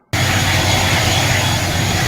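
An ATR 72 turboprop engine running in hotel mode, a loud, steady, close roar with a constant drone and broadband rush that holds unbroken once it starts.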